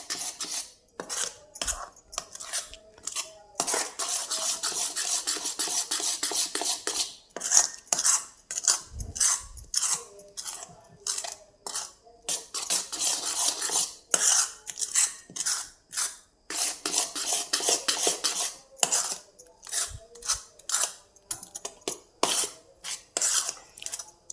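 Soaked henna paste being mixed with a spoon in a bowl, giving a fast run of close scraping and clinking strokes against the bowl, fairly quiet and uneven, with no voices.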